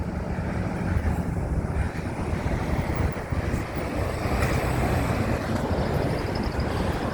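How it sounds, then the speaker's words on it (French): Steady wind rumbles and buffets across the microphone, a low continuous roar with gusty swells, no talking. "Il y a un bon petit vent."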